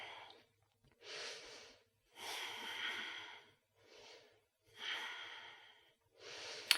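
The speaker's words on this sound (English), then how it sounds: "So 5 steady breaths here." Steady breathing during a yoga cobra pose, with slow alternating inhales and exhales close to the microphone, each lasting about a second, separated by short quiet pauses.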